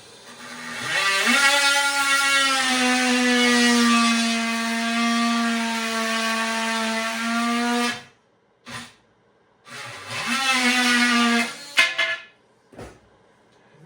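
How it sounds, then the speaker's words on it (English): An orbital saw cutting wood for garage window inserts, running in a long steady whine for about eight seconds, then a shorter second cut, close and loud with no talk. "Orbital saws are a game changer."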